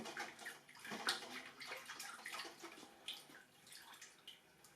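Indigo-dyed cloth being rinsed in water, with steady splashing, sloshing and trickling close by, continuous and fairly soft throughout.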